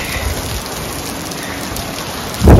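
Steady rain patters on the fabric Bestop Supertop of a Jeep Gladiator, a dense, even hiss close by with a faint low rumble, no voices.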